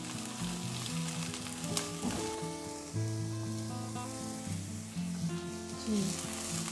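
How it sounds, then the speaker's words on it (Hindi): Capsicum and mixed vegetables sautéing in a pan for chicken and vegetable chow mein, a steady sizzle running under background music throughout. "शिमला मिर्च डालूंगी। और इनको हल्का सा सौते करें।"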